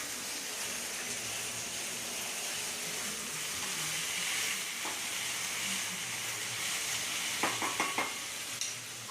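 Curry leaves sizzle steadily in hot oil in a pan while being stirred, a soft continuous frying hiss with a few light scrapes and clinks of the spoon near the end.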